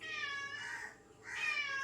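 A cat meows insistently near a home kitchen where fish is being marinated in masala, giving two long, clear, wailing meows separated by a short pause, with no talking.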